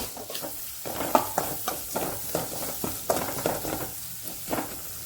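Ingredients for milk sambar fry in a pan, giving a steady close sizzle broken by rhythmic scraping stir strokes roughly every half second, with no talking.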